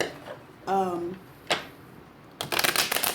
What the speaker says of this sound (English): Something's just telling me to shuffle these again.